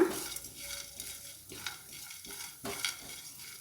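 Cinnamon stick and a few cloves fry in a pan of hot oil for sambar. A faint sizzle runs under scattered stirring and light clinks of utensil on metal.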